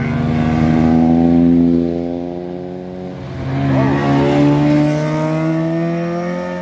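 A car drives past on the rain-wet Marilaque Highway at Devil's Corner, its engine note swelling loud and near, easing briefly, then rising again as it passes, with no talk over it.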